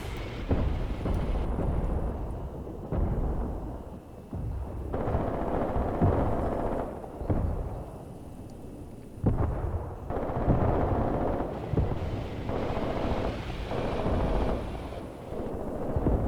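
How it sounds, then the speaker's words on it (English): Artillery shells land in the Graviteam Tactics: Mius war game, a steady run of heavy booming blasts and rumbling gunfire that rises and falls over about sixteen seconds with no talk. "My own artillery is landing, you can see it back there."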